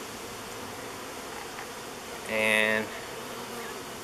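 Honeybees buzz steadily around an opened nuc colony during an inspection, a continuous close hum with one louder swell as a bee passes near, while a person speaks briefly.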